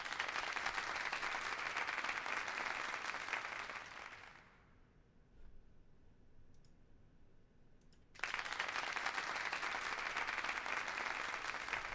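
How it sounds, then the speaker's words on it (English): Applause sound effect from a test donation alert on a charity stream, a dense clapping crowd playing for several seconds, cutting out briefly, then returning at steady volume. "You guys heard applause?"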